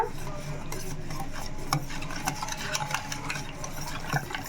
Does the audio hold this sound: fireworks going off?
no